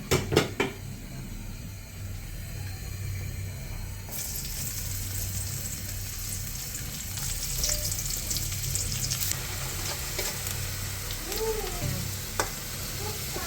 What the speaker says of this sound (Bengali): এখন মাছের উপর দিয়ে দেওয়ার জন্য একটু পেঁয়াজ আর কাঁচামরিচ ভেজে নিব